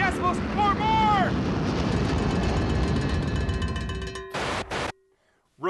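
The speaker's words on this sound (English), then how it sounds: "a jet airplane taking off can produce upwards of 120 decibels or more!" A jet airplane takes off with a loud, broad roaring rumble that holds steady for several seconds, then fades and cuts off abruptly.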